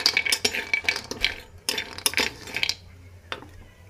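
A spatula scraping and clinking against a kadai while pumpkin badi fry in oil, a series of sharp metallic taps and scrapes in irregular rhythm, close and moderately loud, then a quieter pause.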